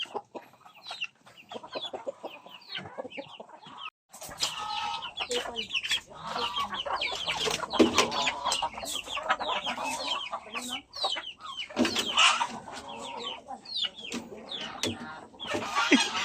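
Chickens clucking repeatedly and busily, close and fairly loud, with scratchy rustling and a brief pause early on before the clucking resumes steadily.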